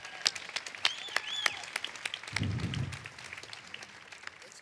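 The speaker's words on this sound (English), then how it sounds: "Give your athletic director a round of applause." A crowd at a sports gathering applauds the athletic director, with sparse, uneven claps and a brief low rumble of cheering partway through, fairly distant and modest in volume.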